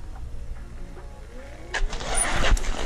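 An electric motocross bike motor sputters and catches, rising into a louder engine rumble near the end, preceded by faint clicks and a whining tone.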